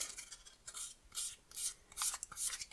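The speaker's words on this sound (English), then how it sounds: "Now I'm going to take some 600 grit sandpaper, and I'm just going to give this leather" Light sanding of a worn leather finish on a briar pipe with 600 grit sandpaper: soft, faint, hissy rasping strokes in a loose rhythm of about five passes, alone and close.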